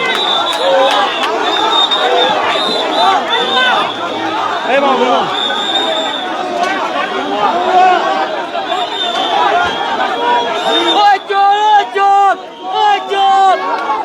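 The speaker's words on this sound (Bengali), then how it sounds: "ভুয়া ভুয়া স্লোগান দেওয়া হচ্ছে" A large, dense crowd chants a repeated two-word slogan in unison at a street protest, loud and continuous throughout, with overlapping shouts and a rhythmic pulse near the end.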